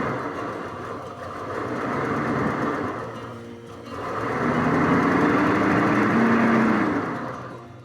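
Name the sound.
Ford Thunderbird engine running at idle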